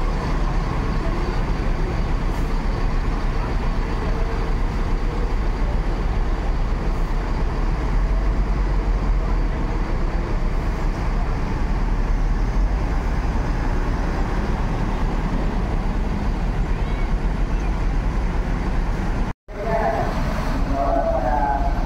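A Sembodo Suite Kombi bus pulls out bound for Ranah Minang, its heavy engine rumbling loudly and steadily over ambient road noise, with a sharp break near the end before the engine sound resumes.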